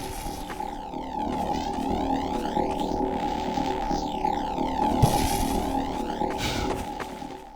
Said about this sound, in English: The sound file hover.wav plays on loop whenever the NPC is near the player